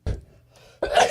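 A single sneeze, sharp and close, with a short burst, a brief breathy pause, then a louder explosive release, heard alone in a quiet room.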